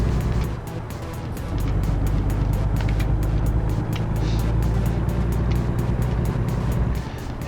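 A heavy truck engine in American Truck Simulator pulls hard up a hill, a steady low drone holding loud and even throughout with faint ticking above it.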